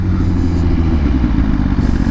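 A motorcycle engine runs steadily up close with a deep, continuous rumble and slight throttle fluctuations, loud throughout with no talking.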